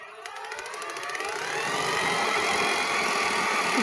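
A Bosch Performance Line CX Gen 4 e-bike motor, paired with a Kunteng controller, runs at minimal throttle: a steady mechanical whine builds smoothly and then holds at a constant, moderately loud level, with no jerks or rattles.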